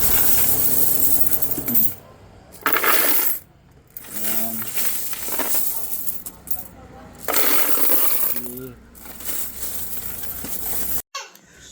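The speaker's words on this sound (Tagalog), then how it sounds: "kailangan na natin kunin yung mga barya na nasa loob ng U-Box ng ating NMAX" Coins are scooped and poured out of the under-seat U-Box storage of a Yamaha NMAX scooter, with repeated bursts of metallic jingling and clinking separated by brief pauses, close and fairly loud.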